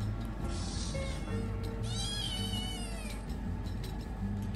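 Young foster kittens with swimmer syndrome give several thin, high meows at close range, the longest and clearest near the middle, over a quiet room background with no talking.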